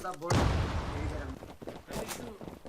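Gunfire in the online shooter Zula, a burst of shots followed by a trailing rumble and further scattered shots, moderately loud, with a player's voice talking over it.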